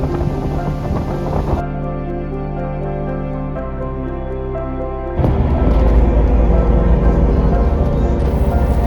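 Heavy wind at Camps Bay beachfront, Cape Town, buffets the microphone in a loud, continuous roar, with a low rumble throughout and a surge of gusting noise in the second half.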